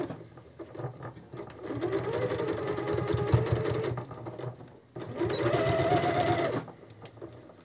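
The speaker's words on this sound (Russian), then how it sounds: "И застрочить уголок тоже на ширину лапки или на тот припуск, который вы оставляли." A domestic sewing machine stitches across the corner of a fabric pot holder in two steady whirring runs separated by a short pause, loud and close, with no talking.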